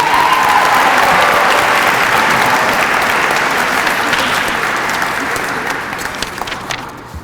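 Loud, dense audience applause at a Hispanic Heritage Month closing ceremony, a full crowd clapping steadily for several seconds before gradually thinning out near the end.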